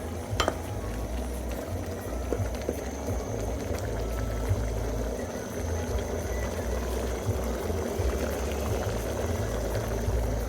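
Beef stew simmers in a pot on the stove before any water is added, giving a steady, close bubbling and hissing with a few small clinks, and no talk.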